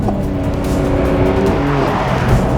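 A 2021 Porsche 911 Carrera 4S accelerates hard, its engine roaring steadily and loudly close by, with rising harmonic tones and some tire noise throughout.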